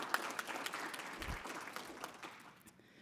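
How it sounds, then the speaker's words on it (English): Audience at a medical debt solutions forum applauding guest speakers, a short, fairly faint burst of clapping that tapers off within a few seconds. "let's give them a round of applause for being here today"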